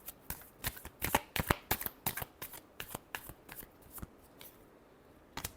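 Tarot cards being shuffled in a run of crisp, rapid riffles and slaps, loud and close with no talking, tapering to a few scattered taps near the end.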